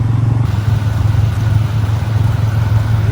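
Traffic on a national road, dominated by a loud, close, steady engine drone with a low rumble that holds without a break.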